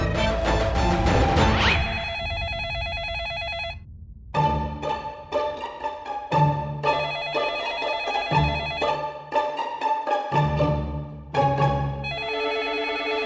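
A telephone rings repeatedly in electronic, tonal bursts with brief gaps, loud and close, set against a musical backing.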